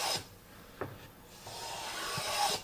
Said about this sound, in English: So I'm going to chamfer these.